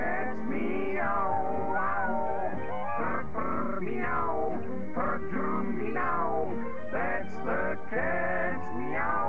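Voices sing drawn-out, sliding meow-like notes over a continuous musical backing, imitating a cartoon cat's meowing, from the 1948 cartoon Animaland: The House Cat.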